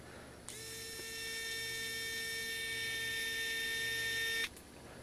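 Arrowmax precision electric screwdriver switched on and running, a steady high-pitched motor whine with a thin buzz that starts abruptly, holds for about four seconds, and cuts off sharply, close and quiet with no talking.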